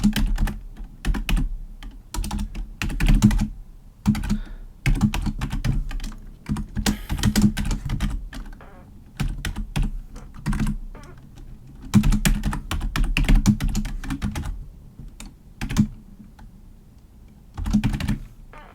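Code being typed on a computer keyboard while working through a logistic regression practice lab, with steady bursts of close keystrokes and short pauses, no talking.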